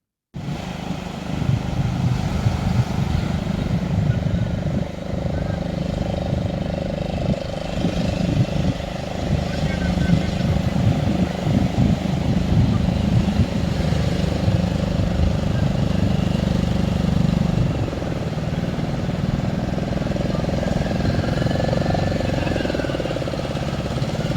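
A fishing boat's engine runs out on the water with a steady, close, droning hum that holds almost unbroken throughout, rough and throbbing in the low end.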